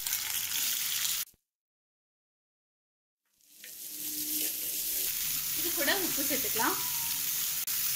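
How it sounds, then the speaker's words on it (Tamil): Mustard seeds, dal, curry leaves and chopped onions frying in hot oil in a pan, a loud close sizzle that cuts out briefly then returns with crackling and stirring scrapes. "அடுப்புல வச்சிருக்கோம் அதல எண்ணெய் ஊத்தி இருக்கோம் இதல கடுகு கலப்பருப்பு கொஞ்சம் சேர்த்துக்கறோம் கடுகு நல்லா வெடிச்சு வரும்போது நம்ம கறிவேப்பிலை சேர்த்துக்கறோம்"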